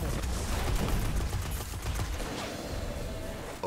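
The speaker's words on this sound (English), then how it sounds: "I love this auto rifle." Answering Chord legendary auto rifle firing in Destiny Year 3 PvP, a rapid continuous stream of loud gunshots with dense overlapping bursts that taper off near the end.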